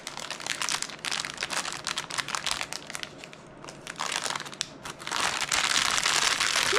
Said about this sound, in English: Pry the paper off.